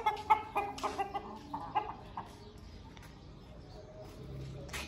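Several chickens, including a black hen and a black rooster, cluck in short, scattered bursts nearby, busier at first and then thinning out against quiet farmyard background noise.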